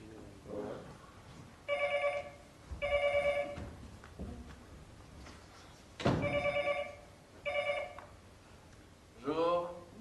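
A telephone rings in repeated double bursts of bright electronic trills, separated by short pauses, with people talking in between and over the ringing.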